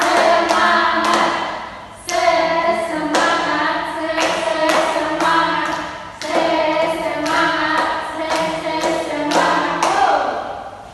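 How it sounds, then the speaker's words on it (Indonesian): A school class claps in rhythmic bursts for a group cheer ice-breaker, the clapping grouped in short sets with pauses between, over a loud tuneful sung or musical backing. "1 kali tepuk semangat. 2 kali tepuk semangat. 3 kali tepuk semangat."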